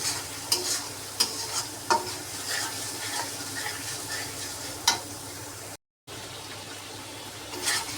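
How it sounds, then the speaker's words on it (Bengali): Masala sautéed with pointed gourd in a pan gives a steady, close sizzle, broken by sharp scraping clicks of a spoon stirring against the metal every second or so. "তার সাথে এখানে মশলাটাও কষানো হচ্ছে।"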